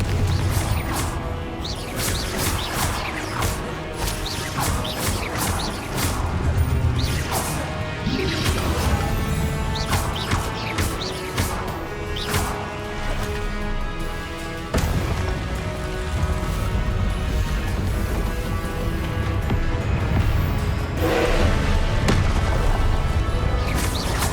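Repeated Confringo blasting-spell explosions in a Harry Potter video game, loud crashing booms and smashing impacts arriving in quick irregular succession over dense game music and effects throughout.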